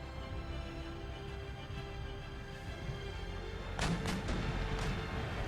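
Artillery firing round shot in Empire: Total War booms in a short volley of three or four heavy reports late on, over a low rumbling battlefield ambience.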